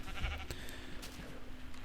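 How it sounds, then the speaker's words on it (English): Sheep bleating in the Minecraft video game, several short bleats in a row, fairly near and clear, with no talk over them. "Oh, there's so many sheep."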